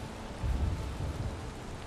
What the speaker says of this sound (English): But this is a wicked storm